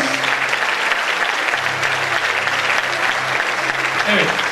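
An award ceremony audience claps in dense, steady applause throughout, with a faint voice briefly audible beneath the crowd noise.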